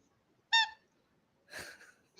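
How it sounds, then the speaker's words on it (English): A child's squeaky rubber duck bath toy gives one short, bright, tonal squeak, followed about a second later by a longer, breathier squeeze, close and distinct against near silence. "You have a squeaky toy?"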